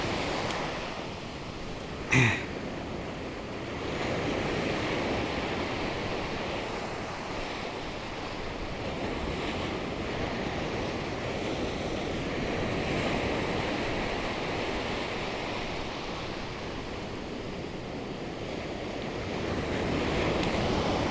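Steady roar of rough ocean surf rolling onto a beach in Occidental Mindoro, Philippines, at a shore fishing spot, with wind buffeting the microphone and one brief knock near the start.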